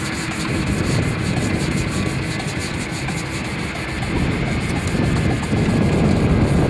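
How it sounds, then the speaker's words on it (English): A sanding block rubbed steadily over a weathered, UV-damaged plastic headlight lens, a continuous close, loud rasping scrape with no pauses and no talk. "take this sanding block and continue sanding"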